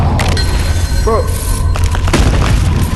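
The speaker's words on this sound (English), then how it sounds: "you just shot me" Gunfire in the multiplayer game Animal Company, dense booming shots over steady background noise while players talk.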